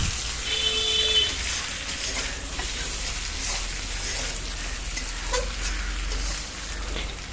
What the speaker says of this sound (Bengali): এখন এটাকে একটু নাড়িয়ে নিচ্ছে মা যাতে এটা আরও খুব সুন্দরভাবে এটা সিদ্ধ হয় এবং চারি জায়গায় যাতে মশলাগুলো লেগে যায়